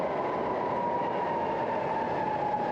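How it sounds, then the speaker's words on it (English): A train arriving at a station rumbles steadily close by with a sustained metallic hum, a constant wash of rail noise with no voices. "And here comes our train."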